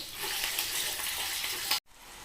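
Peanuts with dried red chillies and green chillies frying hard in a hot pan for lemon pulihora, a steady close broadband sizzle that cuts out briefly near the end and then resumes.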